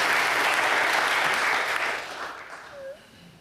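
Audience applause at a livestreamed panel session, a broad steady clatter of clapping hands that holds strong and then thins out and fades toward the end.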